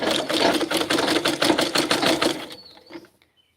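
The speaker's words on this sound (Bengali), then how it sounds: "এই জামা আমি নিজেই সেলাই করছি" A sewing machine stitches a dress with a rapid, steady mechanical chatter for about two and a half seconds, then stops abruptly, leaving a few faint clicks.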